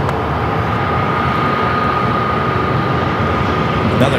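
A Frontier Airbus A321neo taxis at Phoenix Sky Harbor airport, its engines giving a steady, unbroken rumble and whine with a faint sustained tone running through it.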